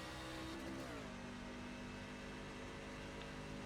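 Racing truck in the iRacing video game accelerating off the line at the green flag at Texas, with a loud continuous engine whine that climbs and then shifts pitch, and no talk.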